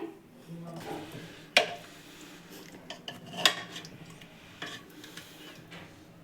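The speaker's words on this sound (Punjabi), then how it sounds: "ਨਹੀਂ ਤਾਂ ਤੁਸੀਂ ਇਦਾਂ ਕੜਛੀ ਦੇ ਨਾਲ ਹੀ ਇਹਨਾਂ ਨੂੰ ਮੈਸ਼ ਕਰ ਸਕਦੇ ਹੋ" Potatoes mashed with a ladle in a pan, giving scattered metallic scrapes and a few sharp clinks against the pan, fairly quiet, with faint talk in the background.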